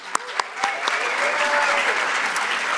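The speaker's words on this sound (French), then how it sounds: "je pense qu'ils vont mériter une bonne main d'applaudissements" Audience applauding at a gala, a few sharp separate claps at the start growing into steady moderate applause from a crowd in a hall.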